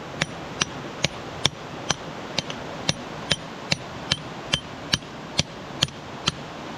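Sharp, evenly spaced hammer blows strike rock around an amethyst geode, about fifteen ringing clinks in a steady rhythm, close and distinct with nothing else heard.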